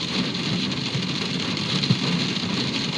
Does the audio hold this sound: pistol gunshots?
no